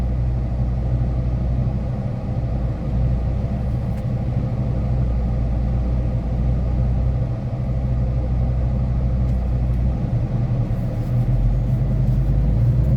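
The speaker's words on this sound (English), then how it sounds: "I'm going to go ahead and park the truck" Parked semi truck idling at a relay point, a steady low diesel rumble that holds evenly and close throughout with no talk.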